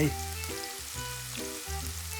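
Beef fat side searing on a KINGBE Kamado 13-inch charcoal grill gives a steady, close sizzle and frying crackle that runs throughout, with tonal background notes layered over it.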